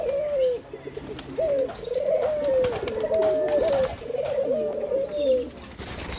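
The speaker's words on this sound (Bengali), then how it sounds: "ময়ূরপঙ্খী কবুতরগুলা দেখেন, ওরা মাটিতে হাঁটাহাঁটি করে পুরা শরীর ময়লা করে রাখছে।" Fantail pigeons coo in repeated soft, throaty rolling phrases, close and clear, with a few faint chirps and light shuffling in the background.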